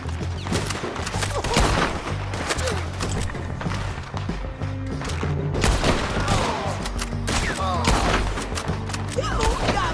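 A dense firefight in Red Dead Redemption II, with many overlapping gunshots cracking near and far in a chaotic barrage, heavy booming impacts, and occasional voices shouting underneath.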